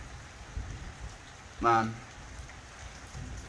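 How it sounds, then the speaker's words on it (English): Steady rain falls, a soft, even hiss that continues throughout at low volume, with someone briefly saying a single word over it. "The rain is really... It's so serene."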